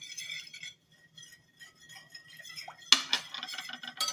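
Utensil clinks and scrapes while potato salad is mixed in a bowl, sparse light taps at first, then a sharper burst of clattering stirring near the end.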